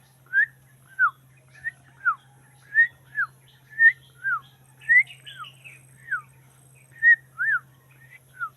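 A wild bird that feeds on mansanitas fruit sings clear, slurred whistled notes in a steady series, each note brief and falling, repeated roughly once a second against a quiet, faintly humming background.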